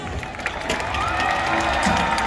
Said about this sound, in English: Everyone give a huge round of applause for Keith.